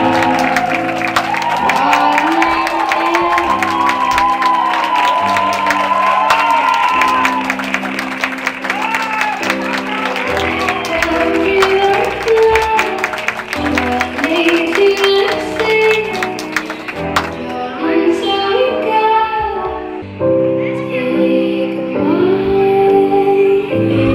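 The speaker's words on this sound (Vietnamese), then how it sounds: "một tràng pháo tay thật nồng nhiệt chào đón cô dâu Tuyết Mai." Warm applause from wedding guests greets the bride at a Vietnamese wedding reception, steady clapping throughout and blended with loud music playing over it.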